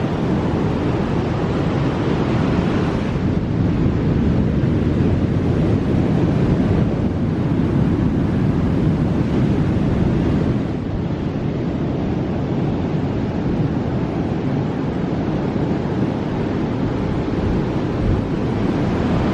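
Ocean surf rolls and breaks continuously at an outdoor coastal spot, a loud, dense wash of water mixed with gusting wind noise buffeting the microphone throughout.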